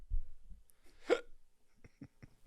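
A single hiccup pops out clearly in a quiet room, preceded by low murmuring and followed by a few soft, rhythmic thumps.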